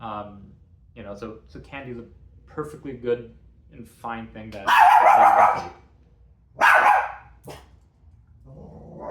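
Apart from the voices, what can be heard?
dog barking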